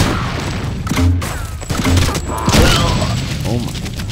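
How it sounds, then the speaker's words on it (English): Grenade explosions in the shooter Not A Hero, a run of loud booming thumps and crashes close together amid other game noise, with brief speech mixed in. "Oh, more nade shots."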